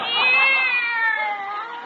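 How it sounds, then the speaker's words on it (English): A cat meows from inside a desk drawer, one long drawn-out wavering cry that slowly falls in pitch, loud and close, with no talking over it. "No, just another cat."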